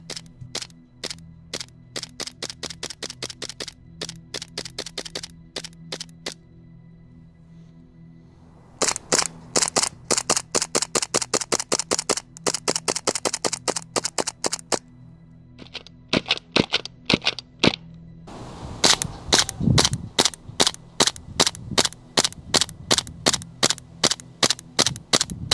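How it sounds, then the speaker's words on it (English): A Western Arms Beretta gas blowback airsoft pistol fires BBs in rapid strings of sharp, loud cracks. Each string runs several seconds, with short pauses between strings of shots. "It can rattle off the 26 BBs okay, it's just not going to blow you away with the nature of its action."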